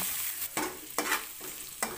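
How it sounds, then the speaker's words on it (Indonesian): Chilies sautéing in a pan with bay leaves and crushed galangal, a steady close sizzle of frying broken by several scraping stirs of the spatula at regular intervals. "Tumis kembali hingga cabenya layu."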